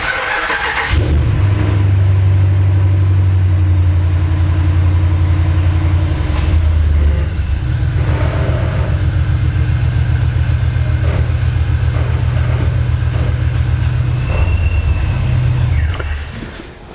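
A RAM pickup truck from the 2009–2018 years cranks and starts, then idles and revs while reversing, a loud, close, steady engine drone with brief pauses in pitch before it cuts off near the end.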